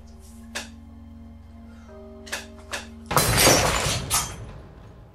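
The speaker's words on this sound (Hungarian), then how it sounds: "Igen, itt is egy pohártörésről van szó." A drinking glass shatters with a loud, sudden crash and a brief spray of breaking shards, preceded by a few soft knocks over a steady low hum in an otherwise quiet room.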